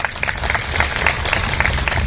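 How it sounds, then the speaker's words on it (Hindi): Applause from an audience at a stress-relief happiness programme session, a steady dense patter of many hands clapping together, moderately loud and continuous throughout. "बहुत अच्छा, ताली बजाते जाए फिर।"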